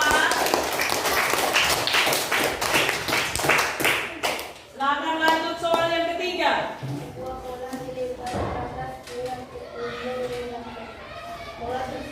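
A classroom of students claps for a group, rapid dense handclaps for several seconds that fade out, followed by a teacher speaking over faint background sounds.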